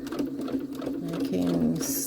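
A sewing machine stitches fabric flags into a holiday garland, giving a brief, moderately loud whirring run with rapid needle clatter that speeds up toward the end.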